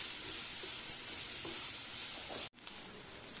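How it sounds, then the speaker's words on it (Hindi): Onions fry lightly in a pan with a soft, even sizzle and faint scraping stirs, steady and close before cutting out abruptly and returning a little quieter. "प्याज को हम हल्का सा फ्राई कर लेंगे"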